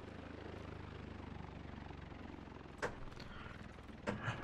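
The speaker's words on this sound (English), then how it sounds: "I hear a helicopter" A helicopter in the video game The Division 2 drones steadily and faintly in the distance, a low continuous rotor hum under the game's ambience, broken by a couple of brief sharp knocks near the end.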